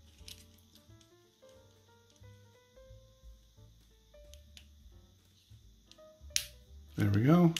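A replacement switch presses into a non-hot-swappable mechanical keyboard: soft, scattered handling clicks and taps, then a sharp snap near the end, followed by a voice speaking.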